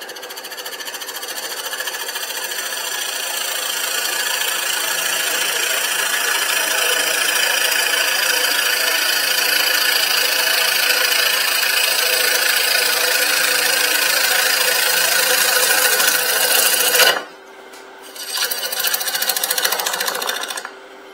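A wood lathe turns a birch bowl with a loud, continuous motor hum and a steady high whir. The sound cuts out briefly near the end, then resumes.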